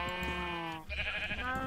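Sheep bleating in the video game Minecraft, a series of close, loud, wavering bleats with a brief pause in the middle, heard alone without talk.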